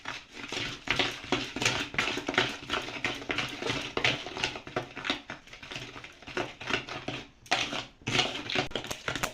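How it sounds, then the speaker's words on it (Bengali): Eggs and powdered sugar are beaten by hand in a bowl for a plain cake, giving a rapid, steady patter of whisk strokes against the bowl that runs without pause, close and moderately loud, with no talking. "ডিম নিয়েছি, এখন একটু মিশিয়ে নিই"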